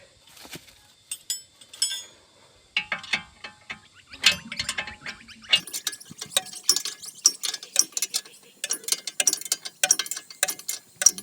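Ratchet tightening a nut on a wheel bearing, bursts of quick metallic clicks in uneven runs separated by short pauses, close and alone.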